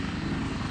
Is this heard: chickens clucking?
no